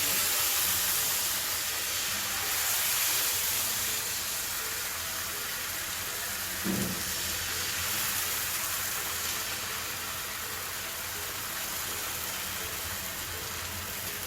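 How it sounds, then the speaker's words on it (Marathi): Fasting-style dosa batter hitting a hot oiled griddle gives a loud, steady hiss that fills the whole stretch, with one brief dull knock near the middle. "आता आपण हे बॅटर डोसा करण्यासाठी तव्यावर घालू"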